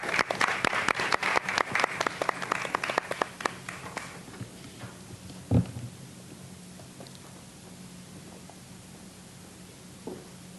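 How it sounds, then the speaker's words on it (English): An audience at a university workshop on AI in higher education applauds to welcome a speaker: a dense burst of clapping for about four seconds that thins to scattered claps, then a quiet room with one brief knock. "So I want you to please, with a round of applause"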